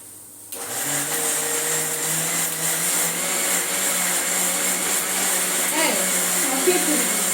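A home mixer grinder starts up and runs with a continuous high whirring motor drone, loud and close, with a faint change in pitch as it works.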